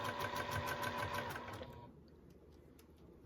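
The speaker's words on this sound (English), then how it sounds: "I don't want to stretch my mesh as I sew." A sewing machine stitches fold-over elastic onto a mesh pocket, a steady rapid mechanical whir that runs for about a second and a half and then stops, leaving quiet room tone.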